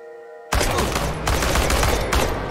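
Sudden burst of rapid gunfire in the video game Chernobylite after a brief quiet moment, continuing as dense overlapping shots with sharp cracks.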